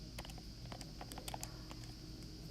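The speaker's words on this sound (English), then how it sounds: "let me type this in" Fingers tapping number keys on a calculator or keyboard, a quick irregular patter of light clicks close by and fairly quiet, with no talking.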